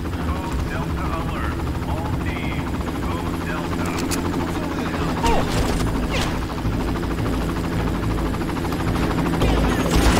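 Helicopter in the video game Far Cry, a loud continuous rotor drone with bursts of gunfire cutting in over it, while a player talks.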